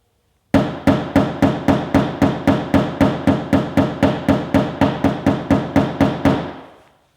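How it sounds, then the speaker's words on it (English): Hammer tapping a car body panel during panel beating repair: about twenty sharp, evenly spaced metallic taps in a quick steady rhythm, close and loud, each ringing briefly, no voices. "You don't need too much weight behind the hammer, as I will show you."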